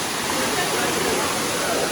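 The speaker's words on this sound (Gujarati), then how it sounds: "તો મિત્રો આ છે મેન ધોધ જટાશંકરનો" Jatashankar waterfall below Girnar in Junagadh, flowing full, gives a dense, steady roar of falling water, loud and unbroken, with bathers nearby.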